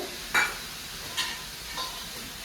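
Water stirred into a radish dish cooking in a pan, a soft continuous sizzle broken by three light clinks of a utensil against the pot.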